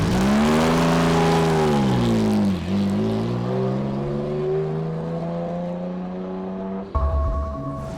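A Porsche race car engine revs hard on a track, a loud continuous roar whose pitch climbs and dips as the throttle changes, ending with a sudden shift in tone near the close.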